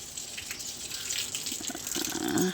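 Steady running water from a tap splashes continuously, moderately close, growing a little louder toward the end.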